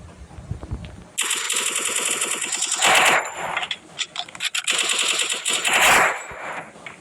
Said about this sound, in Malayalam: എവിടെ നിന്നാണ് ഒരു വെടിവെപ്പ്?